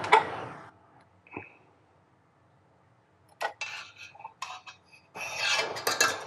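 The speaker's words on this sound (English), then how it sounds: "now I'm gonna take the whisk off anyways" Clinks and scraping rasps as a whisk attachment is removed from a mixer, short metallic knocks and rubbing bursts separated by near silence, close and moderately loud.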